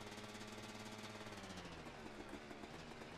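A motorbike engine in the video game A Way Out runs with a steady, rough mechanical drone and a faint knocking pulse, fairly quiet and constant throughout with no voices over it.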